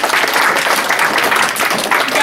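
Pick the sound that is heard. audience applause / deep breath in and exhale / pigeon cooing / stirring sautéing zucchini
audience applause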